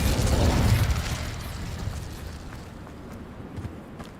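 In Hogwarts Legacy, the Incendio fire spell goes off with a loud, deep whooshing burst that fades gradually over a few seconds.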